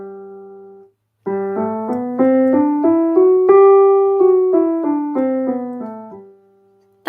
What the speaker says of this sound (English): A major scale, real quick, sounds like this. I'll play starting on that G3.